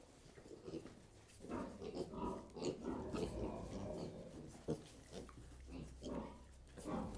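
Piglets grunt and snuffle while eating in a stall, with chomping and shuffling noises close by and faint human talk in the background.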